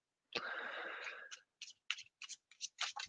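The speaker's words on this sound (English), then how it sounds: "I think we've shuffled these quite enough." Tarot cards shuffled by hand at close range, a longer riffling burst followed by several short quiet flicks and snaps, faint and with no talk.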